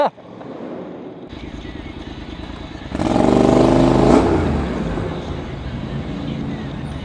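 A Ducati Monster motorcycle engine idles, then revs up loudly and holds a raised roar that slowly eases back down, the sound close and dominant.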